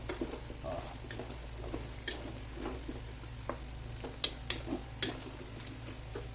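Chicken wings are stirred together with carrots and potatoes in a pan for caldereta, with a soft sizzle beneath sharp clinks and scrapes of the utensil against the pan.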